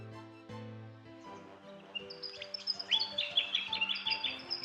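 A willie wagtail calls in the Australian bush with a run of quick, sharp, chattering chirps and whistles, faint but clear, entering after soft background music and repeating rapidly to the end.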